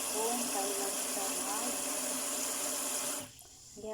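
Water running into a bowl of dried molokhia leaves to soak them, a steady close rushing pour from a tap that stops near the end, leaving a quieter background.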